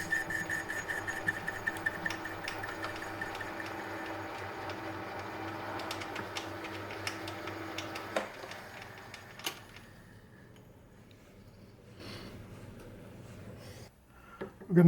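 A lathe bores a hole in a workpiece for an internally threaded collar with a 10mm high-speed steel boring bar, a steady machine whir with a rising cutting tone for about eight seconds before falling quiet, then faint clicks and handling noises.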